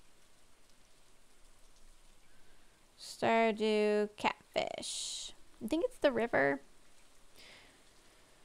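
Rain falls in the farming video game Stardew Valley, a steady, faint patter that runs the whole time and carries on beneath a stretch of talking in the middle.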